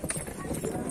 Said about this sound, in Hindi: अरे आज सनी घोड़ा है सामने